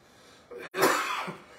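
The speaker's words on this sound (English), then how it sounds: "I cough." A single harsh cough bursts out after a brief breath, close and fairly loud, with a rough tail trailing off.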